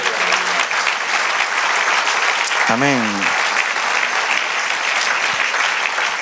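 A church congregation applauds the Lord during a Spanish-language sermon, a dense continuous wash of clapping that fills the room, with a short sung or spoken amen rising over it midway.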